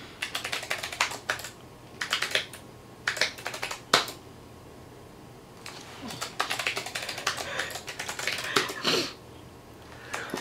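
A password is tapped out on a computer keyboard in quick bursts of clicky keystrokes separated by short pauses, fairly close and clear, with no talking over it.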